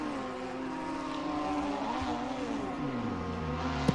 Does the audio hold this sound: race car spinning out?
yes